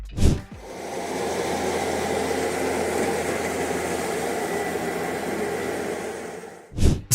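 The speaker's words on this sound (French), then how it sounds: "En d'autres termes, c'est un robot balayeur de rue." A robot street-sweeper vehicle runs with a steady, loud mechanical whir and broadband hum, starting and stopping abruptly with a brief burst at each end.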